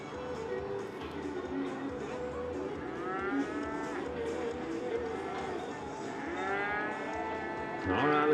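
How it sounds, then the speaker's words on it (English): Cattle in a ranch rodeo team sorting pen moo repeatedly, long drawn-out calls from a few animals at moderate distance over steady arena crowd noise. "Might have to sort out 15 or 20 heifers out of a pen of steers, or vice versa, or cut some bulls out."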